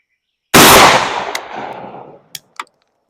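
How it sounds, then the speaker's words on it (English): A shotgun fires a Zveroboy slug through a rifled barrel at a range: one loud, sharp blast with a decaying echo, followed by two small metallic clicks. "here comes the first shot"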